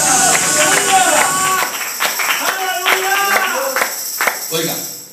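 A church congregation claps hands in an offering of praise, rhythmic clapping mixed with voices and singing-like tones, the claps coming as a steady beat under the talk.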